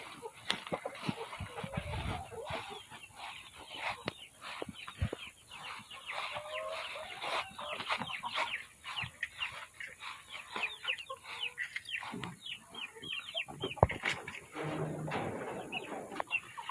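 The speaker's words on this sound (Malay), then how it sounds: "Anak-anak ayam ni adalah anak-anak ayam kacukan di antara Lohman Brown dengan Light Success." Young crossbred chicks of Lohmann Brown and Light Success stock cluck and peep continuously in a farm setting, with many overlapping close calls and occasional louder chirps.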